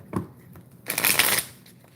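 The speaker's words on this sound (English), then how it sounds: "Let's get a good shuffle and good energy." A deck of tarot cards is shuffled during a live reading: a quick riffle, then a longer, louder burst of rustling and snapping cards, close and alone.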